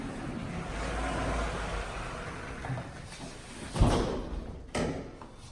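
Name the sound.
bifold doors closing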